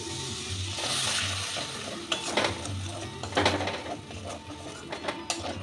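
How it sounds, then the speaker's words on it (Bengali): Spice paste with roasted cumin and coriander powder and a little sugar is stirred in a hot pan, a soft continuous sizzle under repeated scraping of a spoon against the metal, close and unaccompanied by talk. "ভাজা জিরে ধনের গুঁড়ো দু চার দানা চিনি দিয়ে এই মশলাটাকে আমি ভালো করে কষিয়ে নেব"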